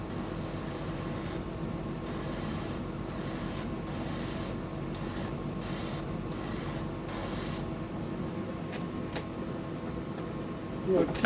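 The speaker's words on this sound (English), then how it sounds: "I cleaned out that airbrush. It's performing very well." An airbrush sprays paint over a stencil held tight on a surface, a close, steady hiss broken by repeated short pauses as the trigger is released, then fading to quieter handling noise.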